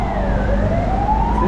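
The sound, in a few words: ambulance siren on a Macau street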